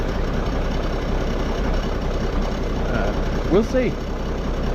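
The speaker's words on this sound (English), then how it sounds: "So all right, tractor's warmed up maybe enough" An Allis-Chalmers tractor engine idles while warming up, a low steady rumble running throughout close by, as someone speaks briefly near the end.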